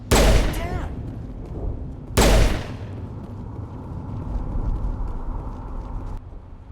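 Gunfire in Mass Effect Legendary Edition during the Eden Prime mission: two loud, sharp blasts about two seconds apart, each trailing into a rumbling, crackling battle din that carries on steadily to the end.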